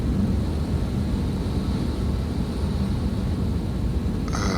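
A de Havilland Beaver floatplane's radial engine drones steadily from inside the cockpit during a landing approach, a loud, continuous low rumble with wind noise that stays even as the throttle comes back.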